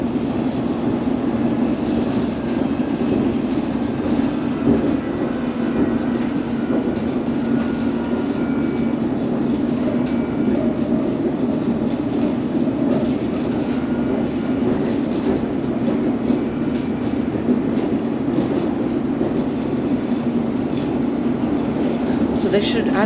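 Train on the London Underground Central line running through open countryside in Essex, a steady continuous rumble with rail clatter throughout, heard close as if from on board, with a voice talking over it.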